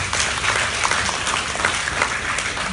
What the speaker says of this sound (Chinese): 我们给他们个掌声